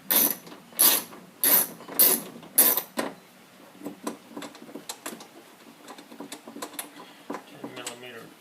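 Bolts come off a 1999-2005 Pontiac Grand Am window regulator in a string of sharp, evenly spaced ratchet clicks, followed by lighter tapping and fiddling with the 10 millimeter fasteners.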